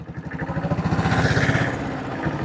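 A 1976 diesel Bullet motorcycle engine pulls away in first gear, its rapid, evenly spaced thumps heard close and loud, rising slightly in pace before easing off near the end.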